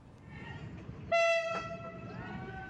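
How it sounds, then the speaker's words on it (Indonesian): A tourist train's horn blasts loudly and holds over the low rolling rumble of the train passing a level crossing, with a sharp knock partway through as it strikes a public minibus. "Beginilah detik-detik kereta wisata menabrak angkutan umum yang terekam kamera warga di perlintasan kereta"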